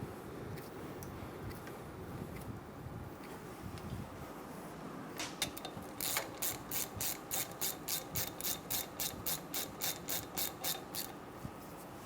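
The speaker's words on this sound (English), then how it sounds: "Snug the union bolt down." A ratchet clicks rapidly in a steady run while snugging a brake caliper union bolt on a 2014-2018 Chevrolet Silverado 1500, starting after a quiet stretch of faint shop ambience.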